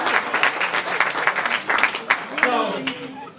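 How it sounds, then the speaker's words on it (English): Audience applause fills a wedding reception after a best man's toast, steady dense clapping across the room with a voice speaking briefly near the end as it fades. "Give a round of applause for my mom"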